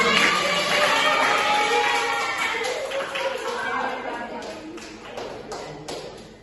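A class of primary school students applauding in a classroom, a dense steady patter of many hands close by that slowly tapers off, with voices mixed in.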